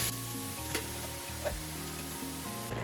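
Beef mince browns in a pan with a soft, even sizzle and faint stirring clicks, no talking, over a short stretch.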